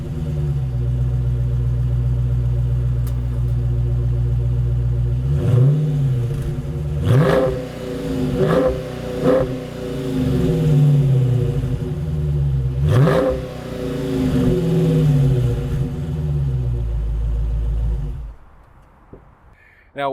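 A 2022 Dodge Challenger Scat Pack 392 Widebody with its 6.4-liter Hemi V8 idles with a deep rumble, then blips through several sharp throttle revs before settling back and cutting off near the end, close and loud.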